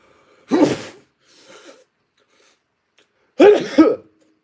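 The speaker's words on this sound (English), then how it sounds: "I have to sneeze." Two sharp sneezes, close and loud, separated by a few seconds, with a short breathy intake between them.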